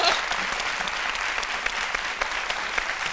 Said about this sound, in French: Éléonore, on va la accompagner avec des applaudissements.